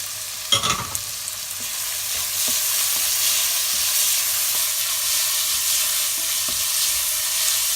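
Ground ginger-garlic paste frying in a pan for a mutton gravy, a brief splash at the start giving way to a steady, fairly loud sizzle with occasional faint stirring taps.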